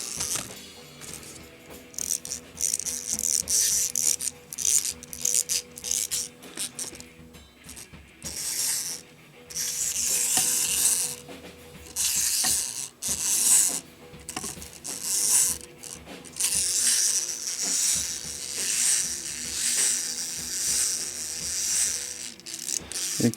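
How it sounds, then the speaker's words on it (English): Small wind-up toy motors from an old Pee Wee playset whir and click in rapid ratcheting bursts, near and fairly loud, stopping and restarting several times with brief mechanical clatter in between. "We'll test out these little wind-up guys."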